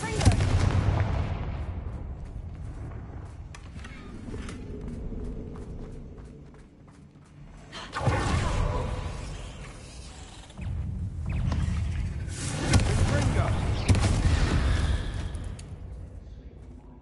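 Confringo explosive spell blasts in the Hogwarts Legacy video game, several booming impacts with rumbling tails spread across the stretch, loud and close amid game action.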